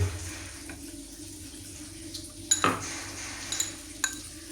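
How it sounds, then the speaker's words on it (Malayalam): Chilli and turmeric masala paste being stirred in a pan with a little water, faint sizzling under a few scraping spoon strokes and light clinks of metal, close and without talk. "ഇങ്ങനെ ഇളക്കി വെക്കും എന്നറിയാം മസാല ഇങ്ങനെ പഴറ്റിയെടുക്കുമ്പോൾ കരിഞ്ഞു പോകാതിരിക്കാൻ"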